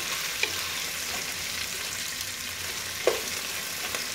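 Onion pieces and green chillies frying in a pan for Andhra-style mutton paya curry, a steady close crackling sizzle with two soft clinks of stirring.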